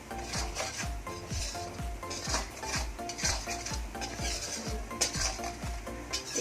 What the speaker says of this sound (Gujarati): એકથી બે મિનિટ માટે જ ખાલી આ રીતના સાતરવાની છે જેથી કરી કરીને આપણી લસણને એકદમ સતરાઈ જાય